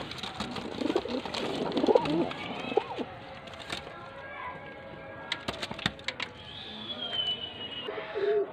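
Cooing from a pigeon being handled at a pigeon sale in Faisalabad, a few soft low coos early on amid handling clatter and faint background chatter, with a voice speaking nearby.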